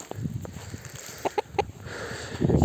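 Agitated Sultan rooster in a chicken coop gives a few short, sharp clucking calls amid rustling and background farmyard noise.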